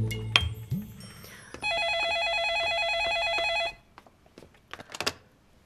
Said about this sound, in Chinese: 嗯，我去接电话。